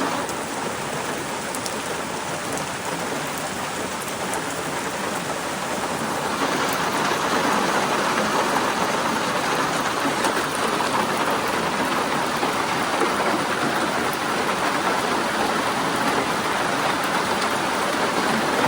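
Steady heavy rainfall, a dense continuous hiss that grows slightly louder partway through, with no voices.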